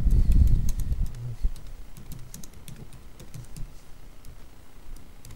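A computer keyboard clicks in quick, light, irregular keystrokes as a channel name is typed, with a low thud at the start and faint cooing in the background.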